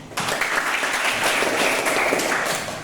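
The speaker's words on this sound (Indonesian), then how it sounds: "Berikan aplaus." A classroom group bursts into applause, a dense, loud wash of many hands clapping together that starts abruptly and holds steady for a few seconds before easing off.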